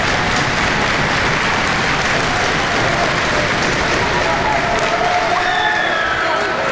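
A college-show pro wrestling crowd cheers and claps in a loud, unbroken roar to rally a downed wrestler, with a few brief shouts rising above the steady din.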